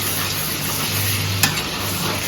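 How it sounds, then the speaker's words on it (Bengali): Potato and pointed gourd pieces are stirred in a hot frying pan, a continuous close sizzle with a single spatula scrape partway through. "সবগুলোকে এবার নাড়িয়ে নেবো।"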